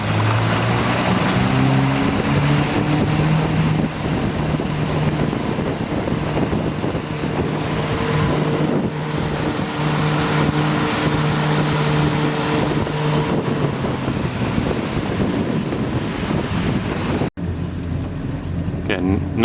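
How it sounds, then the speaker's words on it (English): A 2016 Yamaha 242X jet boat accelerates under throttle, its engine drone rising steadily under heavy wind buffeting and water rush, with a voice talking over it before the noise briefly cuts out near the end. "So the throttles are engaged and the boat is now driving."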